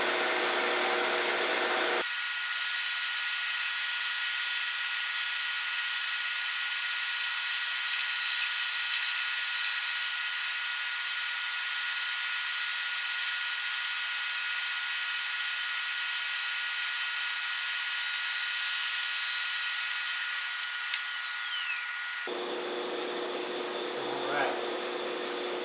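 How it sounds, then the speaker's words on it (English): A woodturning tool shear-cuts a spinning wooden mallet blank on a lathe, a steady bright hiss of cutting over the lathe's hum that runs continuously for about twenty seconds, close and fairly loud. "I'm going to come in here and do a little bit of shear cutting to get that fine smoothness I want"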